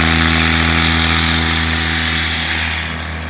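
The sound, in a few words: STOL aircraft taking off at full throttle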